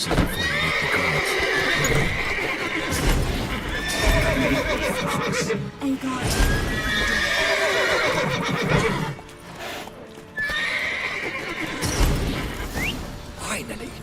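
Horses in The Witcher 3 neigh and whinny loudly with clip-clop hoofbeats, set against the game's music and effects while a voice talks over them.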